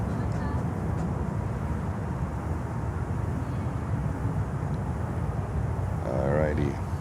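Avianca Cargo airplane touching down smoothly at Miami, a steady broadband engine roar filling the whole stretch with a rising whine near the end and a voice talking over it.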